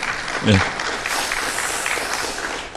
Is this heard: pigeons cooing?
no